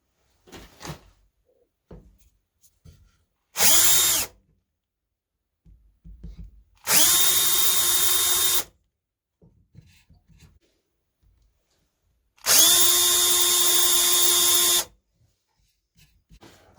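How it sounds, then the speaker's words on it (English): A power drill fitted with a bevel bit cleans up drilled holes in three short, loud whining bursts separated by pauses. Faint scraping and handling noises fill the gaps, all close and with no talk. "So now we're going to clean our holes up a bit with this bevel here."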